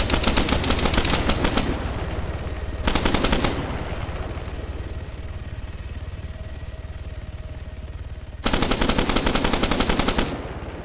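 Bursts of rapid automatic gunfire in a video game, fired at a helicopter, three long rattling volleys separated by quieter stretches of rumbling engine noise.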